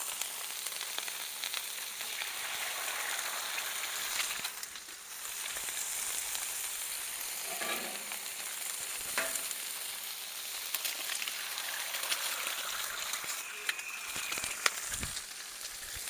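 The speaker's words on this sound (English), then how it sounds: "Get these eggs cooking." Two eggs fry on a griddle with a steady, close, hissing sizzle that lasts throughout, broken now and then by faint clicks and scrapes.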